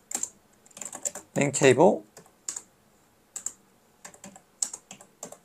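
Typing on a computer keyboard in short bursts of quick clicks with pauses between them, while someone speaks briefly over the keystrokes.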